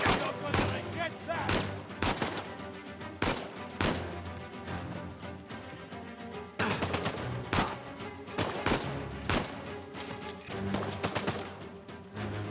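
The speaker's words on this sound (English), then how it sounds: "Suppressing fire is a nightmare" Sustained suppressing gunfire from Uncharted: Legacy of Thieves on PS5: repeated loud bursts and volleys of rapid shots with short pauses between them, heavy and close throughout, with some talking mixed in.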